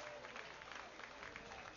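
A baseball stadium crowd roars in sustained cheering and applause, loud and dense throughout, with one half celebrating a fair ball that fell for a clutch hit against the Twins.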